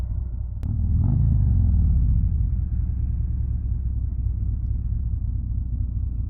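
A 2024 Harley-Davidson Road Glide motorcycle pulls away from a stop on little throttle. Its engine gives a deep, steady low rumble that swells briefly at the start and then holds as an even drone, with no talking.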